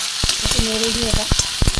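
Chopped garlic, onion and tomato sizzle in a pan as they are stirred. Several close, knocking scrapes of the utensil break up the hiss, and a voice is briefly heard underneath.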